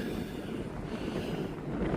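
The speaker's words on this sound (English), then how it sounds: "Very windy, very high up." Steady, roaring wind buffets the microphone on a mountain summit fire tower, Pillsbury Mountain in the Adirondacks, with a constant low rumble and gusty hiss, loud and continuous with no voices.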